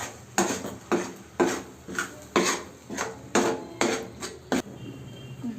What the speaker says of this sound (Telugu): బాగా కలుపుకోవాలి. పచ్చి వాసన పోయేదాకా కలుపుకోవాలి.